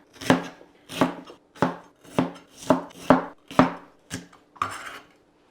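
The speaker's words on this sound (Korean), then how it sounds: "썰어 넣는 것도 괜찮겠지. 파프리카, 빨간 파프리카." A knife slices a red bell pepper on a cutting board while making soy-sauce royal-court tteokbokki. About eight crisp, evenly spaced chops sound close and clear, with no talking.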